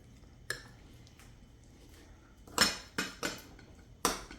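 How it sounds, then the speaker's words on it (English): Utensil clinking and scraping against a bowl while taco salad ingredients are mixed, a few sharp isolated clinks and scrapes spaced out over a few seconds against a quiet room. "Mix it all up in your bowl."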